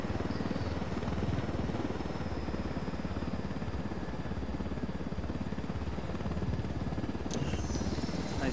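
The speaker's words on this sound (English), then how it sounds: "Cool, they got a backup helicopter for me." A steady rotor thrum and engine drone from a game helicopter in flight, fairly loud and unbroken, with a brief bright clank near the end.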